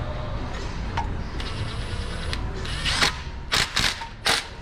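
A flange bolt threads into a 2004 Chevrolet Suburban 1500 5.3 oil pan, giving close mechanical clicks and ratcheting, with several sharp bursts near the end over a steady background.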